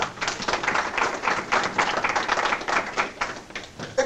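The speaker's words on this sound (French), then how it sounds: "Acclamons quand même pour la parole de Jésus." A church congregation applauds with close, lively clapping in a steady run of overlapping bursts that keeps going for several seconds.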